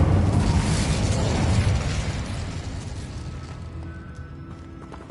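Incendio fire spell cast in Hogwarts Legacy, a loud whooshing burst of flame with a rumbling tail that fades gradually over several seconds, ending in a small click.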